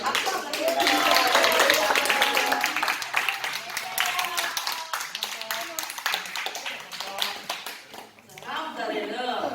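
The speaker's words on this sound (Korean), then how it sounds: "박수 한번 해주세요" A church congregation at a Sunday school worship service claps in a burst of brisk, overlapping applause close by. A voice speaks over the clapping as it thins out toward the end.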